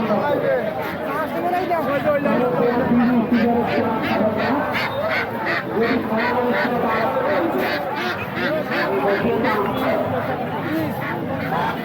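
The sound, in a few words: ducks quacking at a livestock market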